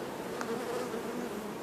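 Honey bees hum at an open hive during a queen-cell inspection, a steady close buzz filling the brief moment with no voices.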